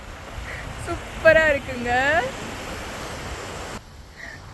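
Sea waves wash in at Thiruchendur beach as a steady broad hiss of surf, with a person speaking briefly over it partway through.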